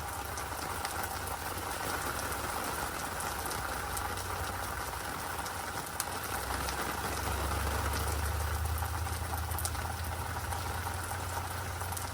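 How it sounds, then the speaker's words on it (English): Hail and rain drum steadily on a homestead roof in a sudden storm, a dense continuous hiss and patter that swells slightly louder partway through, with a low rumble underneath and no talking. "And now it's hailing again."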